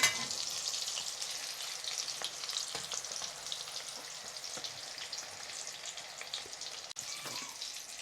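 Fried eggs being lifted out of hot oil in a pan, steady crackling sizzle throughout with occasional utensil taps and a brief scrape near the end.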